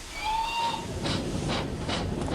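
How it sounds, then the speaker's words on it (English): A short shrill guard's whistle sounds first, then a steam locomotive begins chuffing in slow, rhythmic hissing puffs over a steady rumble. "At last the guard blew his whistle, and Thomas started at once."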